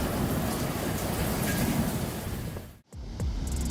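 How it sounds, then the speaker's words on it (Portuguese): Heavy rain pours steadily during a thunderstorm in Queensland, a dense continuous wash that cuts out abruptly near the end before resuming with a low rumble. "Um turista em Queensland decidiu filmar alguns relâmpagos durante uma tempestade."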